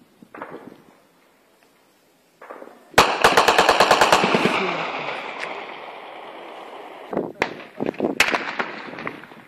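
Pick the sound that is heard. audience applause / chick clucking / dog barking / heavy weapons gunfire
heavy weapons gunfire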